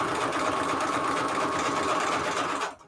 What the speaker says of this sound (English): I'm just going to use my sewing machine here just to sew on this side tuck almost